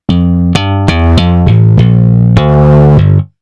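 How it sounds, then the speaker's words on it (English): A bass guitar pushed through a Waves bass plugin with heavy distortion plays a short phrase of about eight loud, gritty plucked notes that ring and then stop abruptly, with no talking. "Too much distortion."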